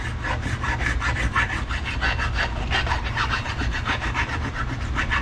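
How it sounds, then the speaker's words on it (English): Rod bearings for an engine are worked oversize by hand, giving a close, steady rhythmic rasping and scraping with repeated back-and-forth strokes throughout, with no voices. "We're actually going to turn these rod bearings, we're going to oversize them about 4/1000ths of an inch"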